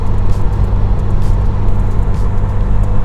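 An Opel Kadett GSi Superboss engine while driving gives a loud, steady low rumble with continuous road noise and no speech.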